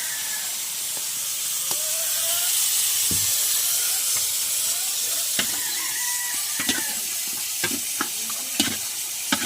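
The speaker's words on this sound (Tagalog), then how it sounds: "Lalagay na po yung paa ng manok." Chicken feet frying and sizzling in a pot with garlic, a steady hiss of hot oil broken by sharp clatters as the pieces are stirred.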